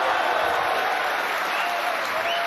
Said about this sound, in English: look at the crowd, they're going wild